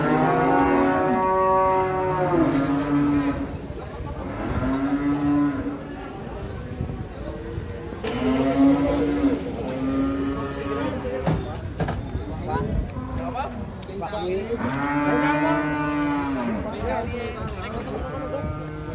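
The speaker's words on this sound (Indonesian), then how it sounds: "Dan ini ada dua ekor sapi." Two cattle moo in long, drawn-out lowing calls that overlap and repeat, with people talking over them outdoors in fair weather.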